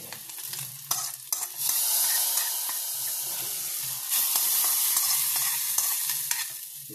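Mango pulissery curry is stirred in a pan with fenugreek powder, giving scraping, sizzling spoon strokes in two longer bursts separated by brief pauses and a few clinks, close and steady.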